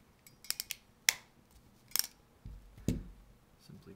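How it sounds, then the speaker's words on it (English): Cat5e network cable wires trimmed with a crimp tool: a few sharp, close snips and clicks in quick succession, then softer handling rustles, quiet and alone. "Simply cut them with the crimp tool."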